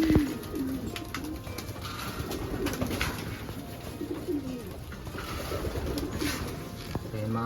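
Racing pigeons in a loft coo in soft, repeated rolling phrases over a steady background hiss, with no talk.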